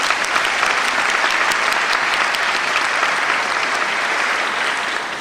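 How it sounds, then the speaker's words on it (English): A graduation audience applauds steadily, dense sustained clapping from a large crowd that stays loud throughout and eases slightly at the end. "These individuals, a round of applause, please."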